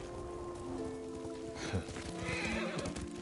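A horse whinnies while being ridden in a samurai video game, a loud neigh rising over steady hoofbeats and light rain, with no talk during the call.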